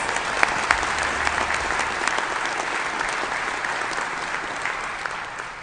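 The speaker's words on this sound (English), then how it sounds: "A round of applause, please." Sustained applause from a luncheon audience at a sports information directors' special awards event, steady and dense for the whole stretch with a few sharper claps standing out.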